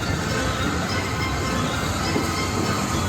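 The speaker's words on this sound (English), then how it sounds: "This was the biggest steam engine we've seen." A steam train rolls into a station loudly with a continuous heavy rumble and grinding wheels, close by and steady throughout.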